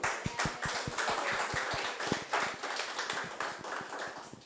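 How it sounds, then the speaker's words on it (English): A small audience gives a round of applause at a meetup about relocating to Japan, with dense, fairly quiet clapping that runs steadily for several seconds and has no speech over it. "let's give everybody a round of applause."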